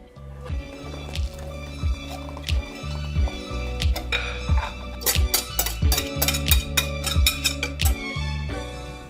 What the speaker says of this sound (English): I'll take my dry ingredient bowl, I'll make a little hole in it, then pour the wet ingredients in the middle